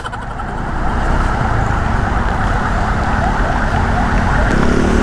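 An ambulance siren wails behind a Honda PCX 160 scooter on a road in Rizal, steady and loud over wind rush and engine noise from the moving bike.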